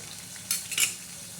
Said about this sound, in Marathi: त्याच्यामध्ये कांदा आणि टमाटे परतून घेणार आहोत परतून म्हणजे तडका देऊन घेणार आहोत